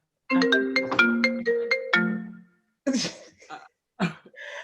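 A laptop's notification chime or ringtone plays a bright run of tonal melodic notes, then quieter scattered sounds follow after a short gap, all close and without talk.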